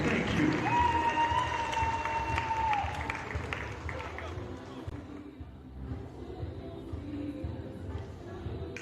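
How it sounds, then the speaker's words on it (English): Crowd applause and cheering at a men's college basketball game in a gym, loud at first with a whistle-like tone, then tapering off into murmuring arena noise. "Ladies and gentlemen, make some noise for that. A round of applause there."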